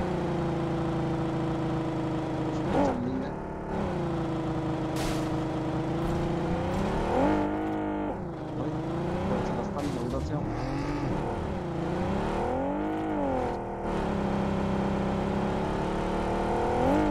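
Vehicle engine in PUBG (Korean version) driving on boost, a steady droning whine rising and falling in pitch as it accelerates and shifts, continuous throughout, with people talking over it.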